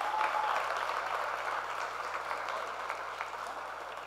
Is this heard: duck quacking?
no